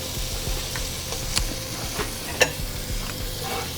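Scallops searing in a hot frying pan give a steady, close sizzle with soft, irregular pops and small clinks of the pan, and no one speaks.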